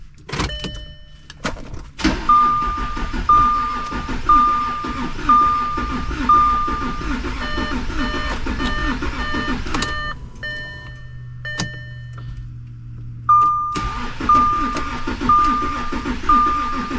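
Audi Q7 engine starting up after an oil cooler replacement, with a car's electronic beeps and a steady idle running throughout and a voice talking over it.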